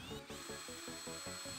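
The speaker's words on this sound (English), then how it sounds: "I need to use a strong drill, set the speed to low, and then mix." A strong power drill turns at low speed to mix concrete with water, giving a close, continuous whir with a steady rhythmic churning pulse as the paddle works through the wet mix.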